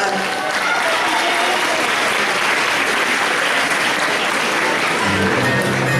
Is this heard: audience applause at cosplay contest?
yes